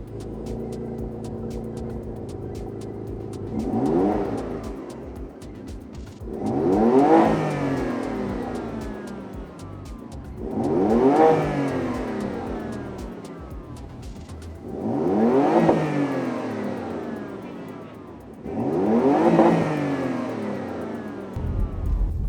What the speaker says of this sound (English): the cold start does have a bit of a rumble, and the sport button does add a little bit of crackles to the exhaust note